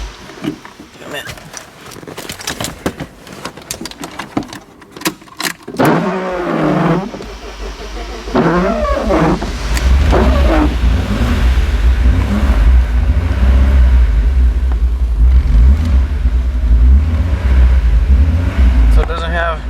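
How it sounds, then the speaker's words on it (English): BMW engine cranked with a small battery box, then catching and settling into a loud, steady low idle, close by, after a stretch of people talking and handling noise. "let me see if I can get it to start real quick with this little battery box"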